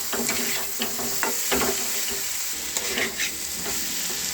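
Spices frying with boiled potato and papaya in a pan, giving a continuous close sizzle with irregular stirring scrapes and light clinks.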